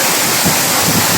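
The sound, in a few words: Sampaloc Falls waterfall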